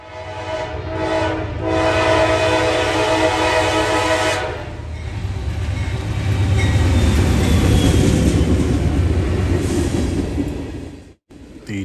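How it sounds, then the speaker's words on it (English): A CSX freight train led by a C40-8W locomotive passes the south end of a siding on the Toledo Sub, its horn blaring loudly first, then a long heavy rumble and clatter of cars rolling by close. "L24, led by a YN2 C40-8W, splits the pair of B&O CPL signals at the south end of the Tip City siding"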